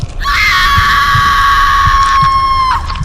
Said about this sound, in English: I screamed again